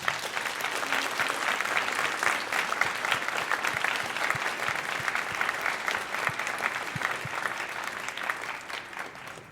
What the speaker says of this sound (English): So can we please offer all of these folks a big round of applause?